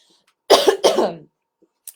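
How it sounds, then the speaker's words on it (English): Two harsh coughs in quick succession, close and loud, followed by a brief faint throat sound. "Sorry for the coughing, folks."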